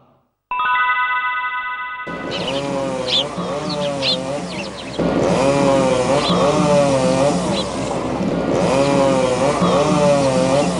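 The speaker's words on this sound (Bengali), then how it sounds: "কেটে ফেলো, পুরো গাছটাকে কেটে সাফ করে দাও।" A cartoon chainsaw cutting down a tree roars into a loud, continuous buzzing whine after a brief tonal opening, revving in waves and staying close and dominant throughout.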